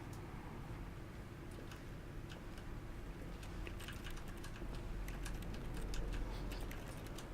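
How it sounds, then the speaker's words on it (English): Keyboard clacking in The Stanley Parable, a steady stream of faint, rapid key taps layered over a low ambient hum, growing slightly denser toward the end. "Still sound of keyboards clacking as you try and activate the toilet"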